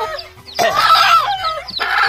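A hen whose chicks were bitten by a civet clucks with her surviving chick, a loud harsh call over soft cheeping that rises again at the end.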